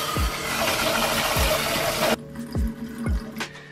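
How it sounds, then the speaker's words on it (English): Quinoa rinsing under a steady rush of tap water that cuts off abruptly partway through, leaving faint dripping and light swishing of grains close by. "you just want to rinse it 2 or 3 times like that until it doesn't foam up like that anymore"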